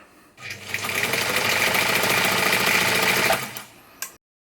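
A Singer 190 sewing machine runs a satin stitch at steady speed for about three seconds, a loud, close, even mechanical whir with rapid needle rhythm that starts and stops abruptly.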